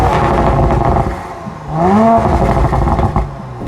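Audi RS5 Sportback with a 2.9-liter turbo V6, its engine note rising loud and close in a short rev that climbs in pitch, then settling back to a rumbling idle.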